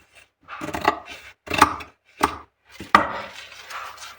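Sharp scissor cuts through blouse fabric for a collar blouse, about five distinct snipping bursts with short pauses between them, close and fairly clear with no talking.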